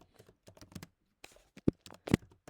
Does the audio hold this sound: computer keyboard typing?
yes